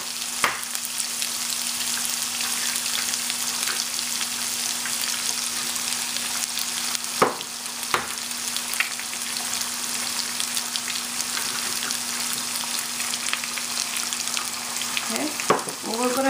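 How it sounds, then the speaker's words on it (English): Eggs sizzle loudly in a hot pan while being scrambled for pad Thai, a steady close frying hiss broken by occasional scrapes and clacks of a utensil against the pan. "we're just going to make a scrambled egg"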